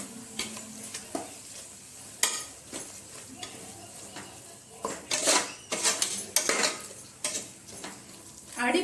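Ginger garlic paste being stirred and scraped in a pan for chicken biryani, with repeated close spoon scrapes and clinks over a soft sizzle, growing busier and louder toward the end.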